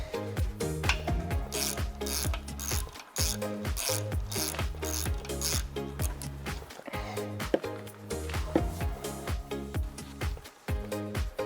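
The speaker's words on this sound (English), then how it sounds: "So I'm just gonna go ahead and pop this drain plug out." A hand ratchet rapidly clicks away at the oil drain plug on a Yamaha four-stroke outboard motor, a loud, close, continuous run of fast pawl clicks with brief pauses between strokes.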